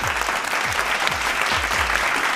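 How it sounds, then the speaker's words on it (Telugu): A crowd at Nehru Zoological Park claps loudly and continuously for a few seconds, a dense, even wash of applause close by. "ఒకసారి గట్టిగా క్లాప్"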